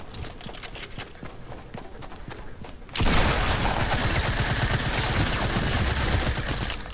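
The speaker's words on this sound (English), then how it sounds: "Someone's shooting at me." Gunfire in the Fortnite video game, first scattered rapid shots, then a sudden dense, loud sustained barrage of automatic fire for the second half.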